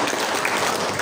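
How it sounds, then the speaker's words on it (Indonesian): Audience clapping at an FKPPI family gathering in Kota Bitung, a brief dense burst of many hands, loud and close throughout. "Tepuk tangan dulu ya."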